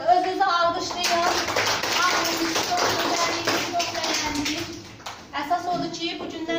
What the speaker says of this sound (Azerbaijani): Bir daha bir özünüzü alqışlayın.